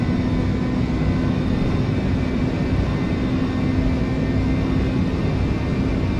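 Airliner engines at takeoff thrust in the FSX flight simulator fill the clip with a loud, steady, broadband roar and rumble. A faint constant tone sits inside it, and no voices are heard.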